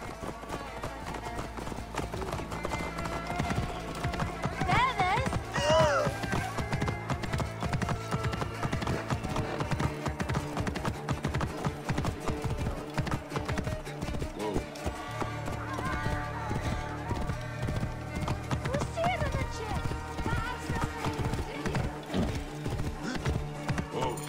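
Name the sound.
horse hooves galloping in a video game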